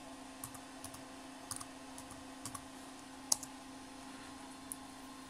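Keys tapped on a computer keyboard while entering a command in the Windows command prompt, a few quiet, scattered clicks in short bursts over a steady low hum.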